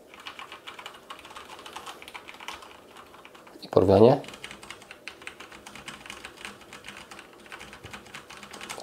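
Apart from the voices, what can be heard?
typing on mechanical keyboards with Cherry MX Red switches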